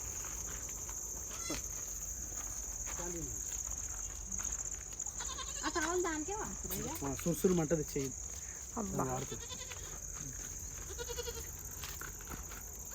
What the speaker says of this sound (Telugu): ఇటు తీసుకురా మేకనే, ఇటు తీసుకురా.